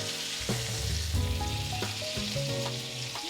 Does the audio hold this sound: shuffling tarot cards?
no